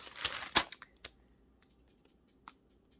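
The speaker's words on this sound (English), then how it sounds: "Crinkling. Crinkle alert." Plastic packaging crinkles and snaps in a burst of sharp crackles, then a few scattered isolated crinkles trail off in a quiet room.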